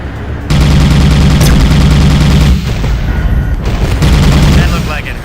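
Weapon fire in the space combat game Tachyon: The Fringe on hard mode: a loud, dense, sustained barrage of rapid shots and booms that briefly dips partway through, with some speech mixed in.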